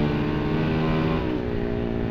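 A Winner X motorcycle with a replica Pro Liner exhaust pipe and racing ECU revs loud and close, a sustained throaty engine roar with no talk.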